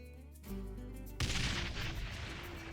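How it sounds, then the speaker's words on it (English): An explosion goes off in the video game Ty the Tasmanian Tiger 2: Bush Rescue, a sharp thump followed by a broad, rumbling blast that lingers and fades slowly, fairly loud with no talking. "That was a rip snorter of an explosion, eh, mate?"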